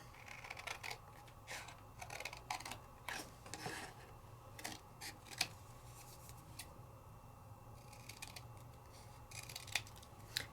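Scissors snipping through paper card for a stamped craft project: repeated crisp, close cuts in irregular rhythm, quiet and alone with faint background hum.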